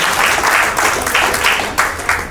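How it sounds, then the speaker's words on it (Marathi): Loud, sustained applause from a gathered audience at a school batch reunion, steady clapping that surges in waves for a couple of seconds without any talk over it. "आपण मनपूर्वक एकदा जोरदार टाळ्या वाजवून आभार मानूया"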